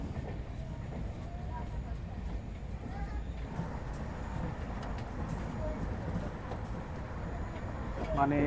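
A Shatabdi Express train runs at over 100 km/h, heard from inside the carriage as a constant low rumble and rolling hiss with faint rail clicks throughout.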